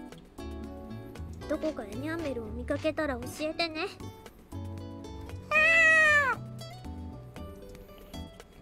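A stray cat in the visual novel game The Fruit of Grisaia lets out several drawn-out meows, the loudest one late, over soft background music and other game sounds.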